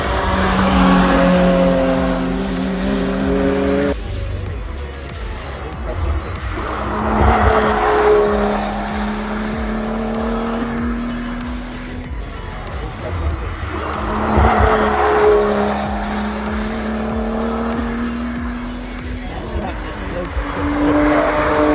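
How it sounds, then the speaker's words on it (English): Race cars sweep through a corner at speed and overtake one another, engines whining up and down in repeated passes, with loud tire squeal and the roar swelling and fading as each group goes by. "I was a bit struck by the speed at which cars are approaching the corner, shooting around it and also overtaking slower cars"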